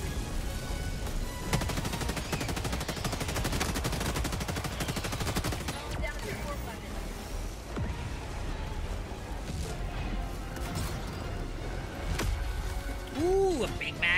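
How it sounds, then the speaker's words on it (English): Rapid game gunfire from Helldivers 2 during a hectic co-op battle, dense bursts of automatic shots for the first several seconds, then sparser pops and booms with effects tones, loud and continuous under a busy mix. "I think it literally popped up as I was shooting my gun."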